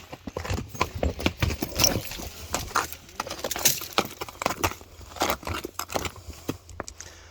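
A horse walks over rocky scree, its hooves striking stones in an uneven clip-clop, with sharp knocks and scrapes close by and no voices over them.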